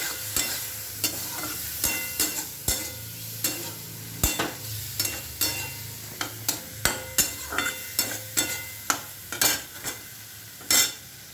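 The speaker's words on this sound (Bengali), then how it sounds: "বন্ধুরা, এই পর্যায়ে আমি টমেটোটা দিয়ে দেবো।" Tomato cooking in a frying pan with ginger paste, a soft ongoing sizzle punctuated by a regular series of sharp spatula scrapes and knocks against the pan, close and without talk.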